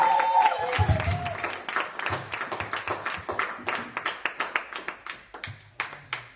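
A church congregation claps in steady rhythmic unison while acclaiming the Lord, with voices singing or shouting over the beat; the clapping continues strongly throughout and holds a regular pulse near the end.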